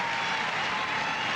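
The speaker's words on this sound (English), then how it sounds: "in unison, this huge crowd at center court cheering for poetic justice" A huge crowd at Wimbledon's Centre Court during a 1986 semifinal applauds and cheers in unison, a dense, continuous roar of clapping heard close and full with no pauses.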